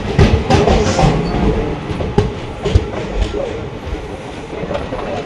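The Ratnachal Express pulls out of Tadepalligudem station, a continuous rumbling roll of wheels on rails with sharp clacks from the wheels over joints, heard close from aboard the train.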